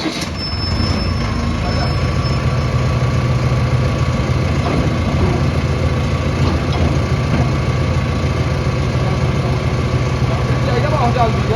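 A low, steady engine rumble of a running tractor continues throughout, loud and close, with a faint high whine near the start.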